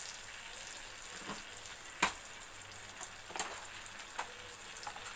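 Salt, cumin and shahjeera frying in a pan for butter chicken: a low continuous sizzle broken by several sharp crackles and spits.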